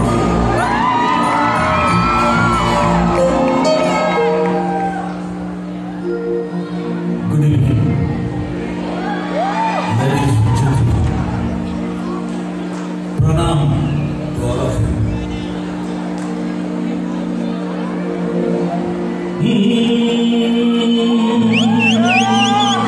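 A concert crowd at a show in New York whoops, shouts and cheers over ongoing music, with bursts of louder crowd noise rising and falling across the performance.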